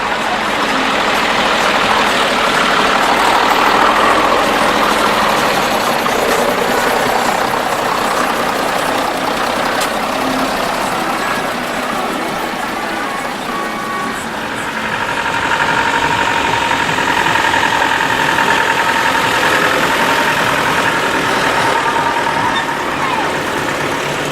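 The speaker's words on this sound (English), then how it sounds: "As more vehicles make their way into the arena" Historic commercial vehicles, UK lorries and trucks, roll into the arena at a Pennine Group rally at Fitzwilliam, their engines droning and idling continuously and loudly under a voice that talks throughout.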